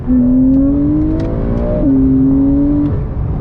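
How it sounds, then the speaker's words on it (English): A Porsche 911 Carrera S with a TechArt body kit is driven hard, its engine note loud and steady, with a sharp jump in pitch as a gear changes partway through. "So let's flick a few downshifts over here."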